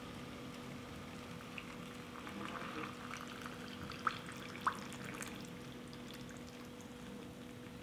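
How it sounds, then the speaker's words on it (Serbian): Boiling water poured steadily into glass jars being filled to the top for preserving, a soft continuous liquid rush with a couple of brief clinks near the middle, no talking. "Voda je proključala i sada ću napuniti tegle."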